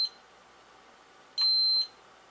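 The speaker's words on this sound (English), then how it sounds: "you'll hear it beep when I do that" A single short electronic beep, high and clean, from a Cheerson CX-10 toy drone linking to its controller, sounds once against a quiet background.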